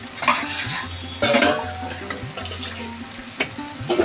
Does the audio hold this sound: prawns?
yes